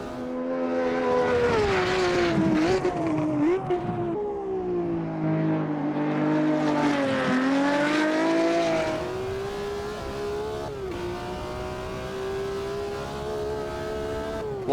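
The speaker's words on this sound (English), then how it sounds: "Just have a listen to that BMW engine" A BMW race car engine screams along the 1971 Nürburgring Gesamtstrecke in a sim racing game, loud and close, its pitch climbing and dipping through gear changes and corners with no talk over it.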